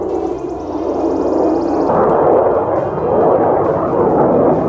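Military jets roaring overhead near the US Ramstein air base in the Palatinate countryside, a loud, broad rumbling drone that swells and holds steady for several seconds with no talking over it.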